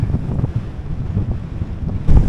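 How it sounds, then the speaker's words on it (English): Strong headwind buffets a microphone while cycling along the road from Vernon to Boubiers in Normandy, a loud continuous low roar with gusty surges and no talk. "this wind is brutal"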